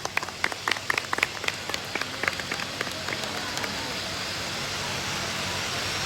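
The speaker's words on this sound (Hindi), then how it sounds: "ताली बजाओ, ताली बजा दो भाई, ताली बजा दो।" Scattered hand claps break out among a small group at a wedding gathering, a quick burst of uneven claps that tapers off into a soft, steady crowd murmur.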